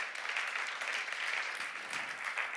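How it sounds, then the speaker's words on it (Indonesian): Faint, steady applause from a church congregation at an online Christmas Eve service, a distant wash of many hands clapping that continues evenly for a couple of seconds without any talk. "Oh, beli semangat lagi dong tepuk tangannya."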